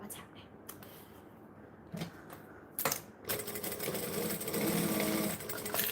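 An embroidery sewing machine starts after a few clicks and knocks and settles into a close, steady rapid stitching whir. Faint speech comes in under the motor noise.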